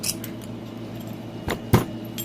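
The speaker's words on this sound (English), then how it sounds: "I just simply do that so I can plop the keys back in with it." Keys jangle close by as they are put back in with a lock, giving a few quick metallic clinks and one sharper rattle near the end over a quiet room.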